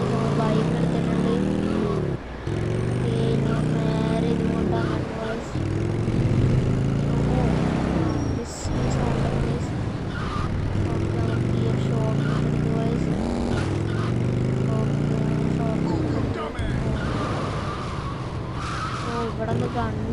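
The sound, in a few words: motorbike riding in a video game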